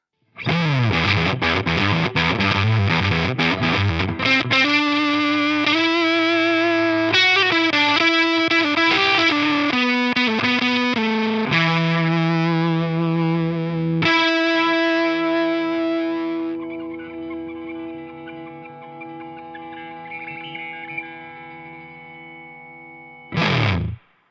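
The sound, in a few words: drop-tuned Ibanez Iceman electric guitar through a fuzz pedal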